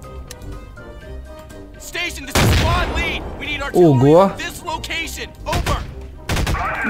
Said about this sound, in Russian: Слышите взрывы эти? Это с неба летят.